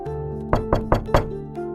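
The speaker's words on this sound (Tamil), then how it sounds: "அப்போது யாரோ கதவை தட்டுகிறார்கள்." Four distinct knocks on a door in quick succession with a slight pause before the last, sharp and close against a faint steady musical background.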